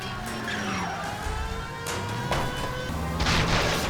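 A car chase in L.A. Noire: a continuous loud engine roar with shifting pitch sweeps as vehicles swerve past, plus a few sharp impact-like bursts, all dense and close.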